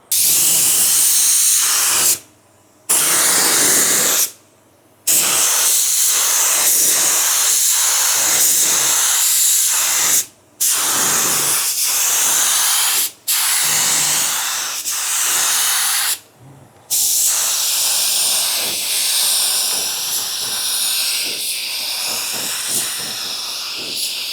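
A spray gun lays clear coat onto a car panel, hissing loudly and close. The spray comes in long bursts broken by several brief pauses.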